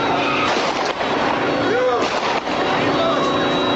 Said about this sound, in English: 3 of them were holding guns and they just started firing